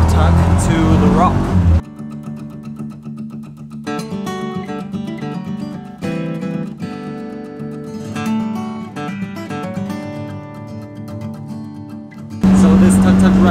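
A tuk-tuk engine hums during a ride toward the rock in Guatapé, Colombia, loud at the start and end with a quieter, steady drone between, mixed with music.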